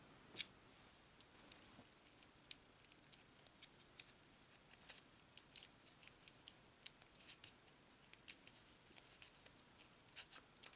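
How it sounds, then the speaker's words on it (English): Paper tape is torn and wrapped around a doll head armature, giving soft, irregular crinkles, rips and taps scattered across the quiet scene, close and fairly faint with no talking. "I'm going to wrap this with paper tape too."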